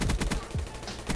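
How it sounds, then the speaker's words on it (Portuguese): Galil rifle gunfire in a first-person shooter game, a quick string of sharp, close automatic shots in an uneven rhythm, lasting about a second. "Nossa, essa Galil é muito boa, velho."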